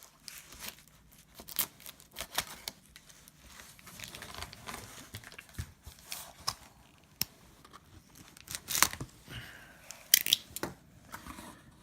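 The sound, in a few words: cutting packing tape around a comic book package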